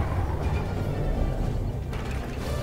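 The Iron Curtain superweapon in Command & Conquer Red Alert 3 activates with a dense, loud mechanical grinding and ratcheting of gears, steady throughout with no speech.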